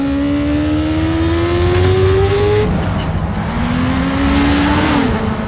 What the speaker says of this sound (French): Cette course-poursuite! C'est vraiment une bonne idée d'avoir pris un 4x4!